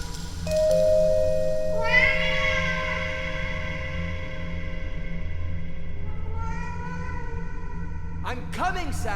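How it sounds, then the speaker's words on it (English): Cat meowing in the Vertigo video game, a long drawn-out tonal meow followed by a second shorter one, close and clear over a low background hum. "Your cat interrupts you, begging for food"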